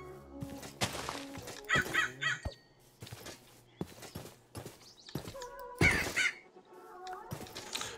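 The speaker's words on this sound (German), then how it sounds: "Und Raben." Ravens in Minecraft give repeated harsh caws in irregular bursts, loud and close, mixed with horse-like neighing and clopping game sounds.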